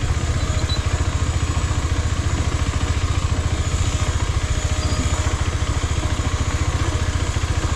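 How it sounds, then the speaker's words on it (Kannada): A KTM 390 Adventure single-cylinder engine pulls in first gear off-road on loose sandy trail, a loud, close, steady throbbing thump at an even low rhythm with no voices over it. "ಈಗ ನೋಡಿ ಫಸ್ಟ್ ಗೇರ್ಗೆ ಹಾಕಿ ಬಿಟ್ಬಿಡ್ತೀನಿ"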